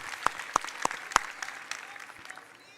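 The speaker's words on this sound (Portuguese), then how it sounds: "Eu aplaudo vocês." Live audience applause at a motivational talk by Augusto Cury on managing emotions: a crowd claps with a few sharp, loud hand claps standing out early, then the clapping gradually thins and fades.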